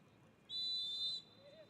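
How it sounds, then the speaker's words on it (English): A referee's whistle gives one sharp, steady blast lasting under a second at a men's college soccer match between American River College and San Joaquin Delta College, over faint ambient field noise. "Finally gets the whistle"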